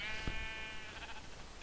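Sheep in a video game bleats once, a short, faint wavering call over a quiet background with no talk.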